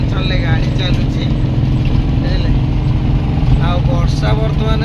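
A vehicle drives through a hilly area, its engine making a steady loud low drone throughout, with a voice talking over it.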